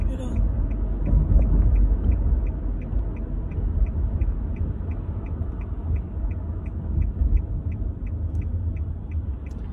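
A small car drives along with a low, continuous engine and road rumble. A faint, regular ticking, like a turn signal, runs over it.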